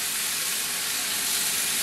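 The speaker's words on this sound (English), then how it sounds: "Always, always, always want your steaks to sizzle." A steady, dense sizzle of steaks seasoned with salt, pepper and olive oil frying in a hot pan, bright and hissy, continuing without a break and with no voices.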